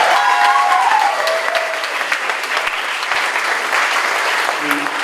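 Audience at an election night party applauds steadily, with dense sustained clapping and some crowd noise throughout.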